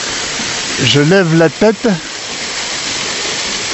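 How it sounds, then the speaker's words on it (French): A waterfall roars from right behind the Cascade des Quaires, a loud steady wash of broadband noise throughout, with someone talking briefly over it. "Là, je me trouve exactement derrière la cascade."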